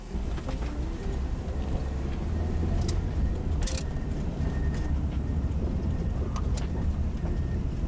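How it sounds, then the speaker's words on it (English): A cheap, troubled Honda CR-V driving along a dirt road, a steady low engine and road rumble with tire crunch and occasional rattles and clunks from inside the cabin. "I'm going to take a drive down this dirt road and we can take a listen."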